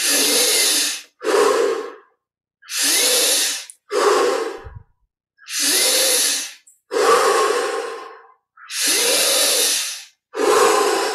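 Deep, forceful breaths during Kriya Yoga meditation, eight long loud inhale-exhale bursts in steady rhythm with brief silent gaps, close and clear with no talking.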